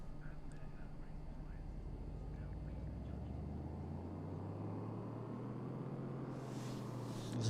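A car with a brand new 410 bhp engine runs continuously at low, rumbling idle, its engine note slowly rising in pitch, with muffled talk faintly in the background.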